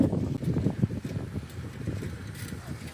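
Gusty wind by a lake buffets the microphone while bicycling, low rumbling bursts, fairly faint, with no voices.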